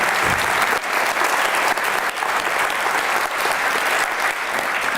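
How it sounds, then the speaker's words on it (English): Sustained audience applause fills a TV festival hall in Edinburgh, loud and dense from start to finish with no talking over it. "Give him a round of applause, please."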